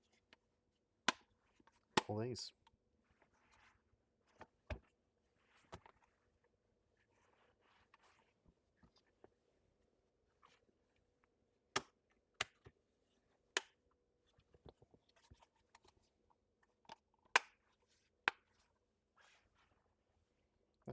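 Plastic trim clips snapping into place while fitting a display upgrade kit into an Alfa Romeo 916 dashboard, giving sharp, close clicks scattered irregularly through the span with quiet pauses and a brief voice between.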